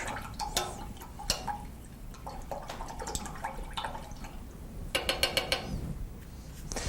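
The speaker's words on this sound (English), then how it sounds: "Rinse your brush." A paintbrush rinsed in water during oil painting, close-up with small sloshing, dripping and tapping against the container in irregular bursts, including a quick run of taps near the end.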